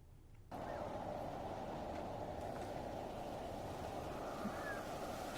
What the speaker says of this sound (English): Sounds more like a windy English seaside to me.